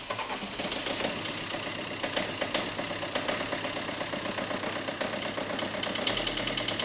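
A 2017 turbocharged car engine, bought as a salvage-auction gamble, runs at idle with a steady dense mechanical chatter and a slight chuff and miss, close and loud throughout with a lower shift near the end, no talk.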